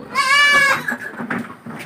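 A goat on a farm lets out one loud, close, quavering bleat, followed by fainter scattered farmyard sounds.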